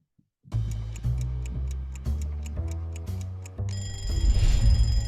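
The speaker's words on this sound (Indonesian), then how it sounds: "Setiap pagi mungkin kita bangun karena dengar suara alarm di HP kita." A phone alarm rings in the morning, playing a loud, close melodic ringtone of repeated bright tones that grows busier toward the end, with no one speaking.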